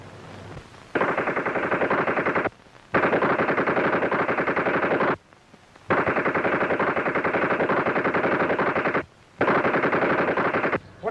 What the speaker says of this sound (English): Machine gun practice.